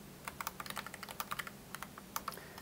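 Quick, irregular keystrokes on a computer keyboard at a desk, entering a text prompt; light clicks come in a steady patter with small pauses, fairly close and quiet, with no talking.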